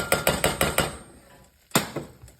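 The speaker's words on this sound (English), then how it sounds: "So add a little bit in at a time, whisk it around" A whisk clatters against a pan while flour is stirred into melted butter, five quick metallic taps followed by a pause and another sharp knock, close and fairly loud.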